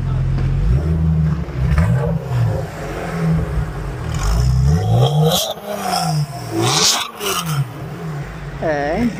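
A Porsche is driven slowly to a parking spot in the sun, its engine rising and falling through low revs in short pushes, with mechanical whirs and clatter nearby and people talking over it.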